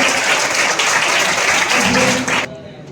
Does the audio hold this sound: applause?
yes